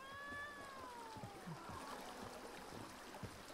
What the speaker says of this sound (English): Oh, kitty! Hi, kitty!